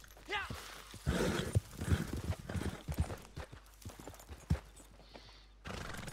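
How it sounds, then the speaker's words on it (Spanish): Hooves of a horse in Red Dead Online clip-clopping in an uneven, busy rhythm with thuddy steps, a brief neigh near the start, and a rush of noise at the end. "Ay, mi caballo está todo loco, tío."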